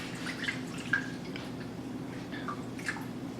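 Water drains off kale that has been soaked in Kangen water. Soft drips and small splashes fall at irregular intervals, faint and close over a low background hum.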